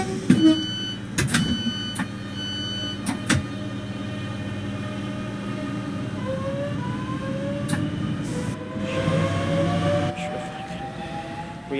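Electric traction motors of a Class 465 Networker train in Train Sim World 2 whine in rising tones as the train accelerates, over rumbling rail noise with a few sharp clunks early on.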